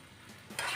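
Brinjal curry being stirred in a pan: a brief, close scrape and sizzle that swells suddenly toward the end, quiet and without talk.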